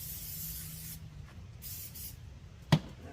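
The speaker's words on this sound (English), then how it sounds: "Spray a little bit of oil as a binder over here." Oil sprays onto raw meat as a binder for a rub, heard as a steady close hiss that stops about a second in, followed by quiet background and one sharp click near the end.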